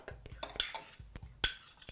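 Ingredients for a potato salad with chopped onion, pickle and olive being folded in a bowl, with a string of quick utensil clinks and scrapes against the dish, close and fairly loud.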